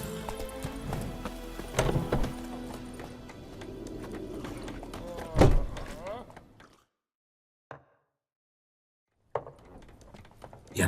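Hooves of Roach, a horse in The Witcher 3, clip-clop at a steady trot under background game music and ambience, then drop out into near silence before faint sounds return.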